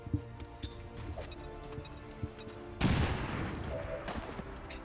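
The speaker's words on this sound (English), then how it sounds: "Let's just go ahead and guarantee the kill with a grenade." A grenade detonates in XCOM 2, a sudden loud broadband blast that cuts in midway and fades into a sustained rumbling tail, following quieter ticking game sounds.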